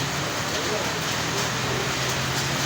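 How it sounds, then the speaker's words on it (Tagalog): Heavy rain pours down in a steady, dense hiss at a Philippine home, continuous and fairly close with no break, a low hum underneath. "Lakas ng ulan."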